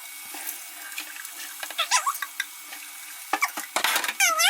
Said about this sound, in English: now I can discard the rest of the water